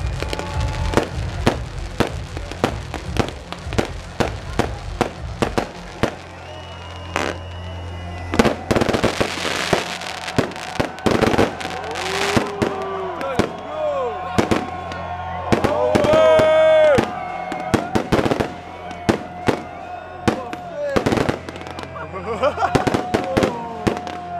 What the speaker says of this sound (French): le samedi on a eu un gros feu d'artifice d'1 quart d'heure